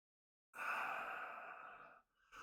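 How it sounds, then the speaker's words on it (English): A single deep, airy inhale during a meditative breathing practice lasts about a second and a half and fades slightly, followed by a short pause and the start of another breath, close and alone. "Breathe in."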